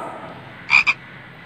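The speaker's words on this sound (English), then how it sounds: "Frog croaks." Two quick frog croaks, the first longer and the second short, sound close by against a quiet background.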